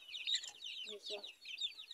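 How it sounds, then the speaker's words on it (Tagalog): Chickens cluck and chirp softly in a continuous, busy chatter, with a low murmur partway through, heard from a short distance. "dito muna po linipat yung mga manok"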